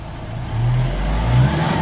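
A loaded Isuzu D-MAX 2022 3.0 manual 4x4 pickup, stuck in mud while carrying palm fruit, reverses with a steady, heavy low engine drone that swells midway, close by with no talk.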